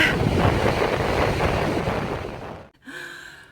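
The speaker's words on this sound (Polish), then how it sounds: "Dzisiaj mamy bardzo, bardzo mocny wiatr." Strong wind buffets the microphone by the sea on a warm, sunny day in Mersin, Turkey, a loud continuous roar that drops out briefly near the end before gusting back in.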